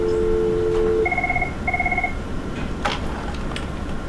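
A telephone rings in a high school office, two clear electronic ring bursts in quick succession, followed by faint background clatter and room noise.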